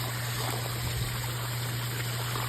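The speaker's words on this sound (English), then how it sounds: "The water comes up through the gravel and water falls down." Garden pond waterfall with water spilling over rocks from a gravel wetlands filter, a steady close broadband rush of flowing and splashing water that continues unbroken, with a constant low hum underneath.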